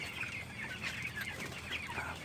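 Broiler chickens in a poultry farm cluck continuously, a dense murmur of many birds close by with overlapping calls and no talking.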